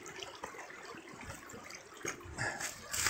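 Water of a river running over stones, a continuous broadband rush with small splashes and swells, fairly steady with louder bursts near the end, no voices.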